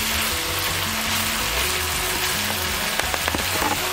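Milk bubbling and sizzling as a mawa mixture is roasted and stirred in a pan, a steady close hiss with a few sharper scraping clicks near the end; no voices.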